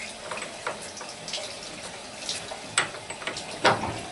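Water runs from a fully opened tap valve, a close, steady rushing flow with small splashes. The setting is a plumbing repair of a leaking valve tap before the water meter.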